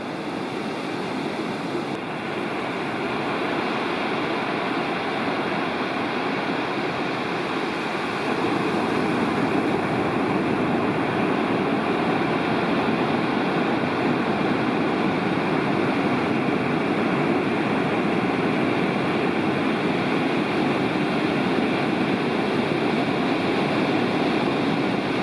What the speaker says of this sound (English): The waves were a bit larger than usual, perhaps because Hurricane Lee was passing off the coast heading toward